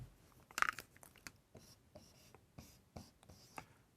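Pen writing a decimal as a fraction during a recurring-decimals maths lesson: quiet close scratches and sharp little strokes in an uneven rhythm, with one louder scrape early on.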